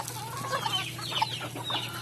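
Chickens on a small backyard farm cluck and murmur in short, scattered calls at close range over a low steady hum, with no talking.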